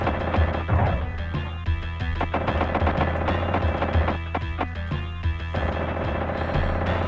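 Rapid gunfire from the SNES version of T2: The Arcade Game, a dense stream of shots over a busy, loud game soundtrack with steady, overlapping bursts throughout.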